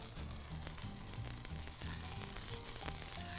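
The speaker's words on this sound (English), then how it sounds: "we can see our parsley oil starting to fry nicely over here" Parsley oil frying in a pan on a stovetop, a steady close crackle and sizzle that carries on without a break, with no one talking.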